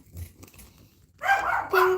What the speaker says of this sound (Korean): 키키 치치가 짖네요